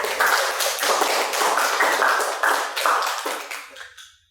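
A classroom of students claps together in a brief burst, the claps close and crisp, fading out after a few seconds.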